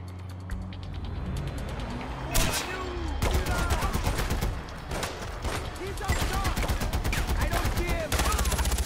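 Gunfire in the video game Far Cry 4, with dense, loud bursts of rapid automatic shots crackling close by in repeated volleys, with mechanical clatter and game voices mixed in.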